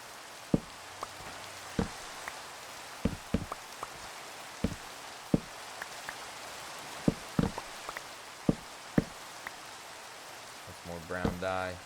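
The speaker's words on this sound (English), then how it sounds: "it's going to start raining on me" Scattered sharp drips tap irregularly over a faint hiss of falling rain in Minecraft, with a brief voice-like murmur near the end.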